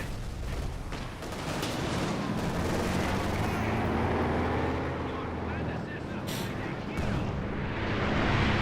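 Artillery and gunfire in the World War II strategy game Company of Heroes 2 form a dense, continuous roar of booming blasts and rumbling battle noise, and a voice talks over it.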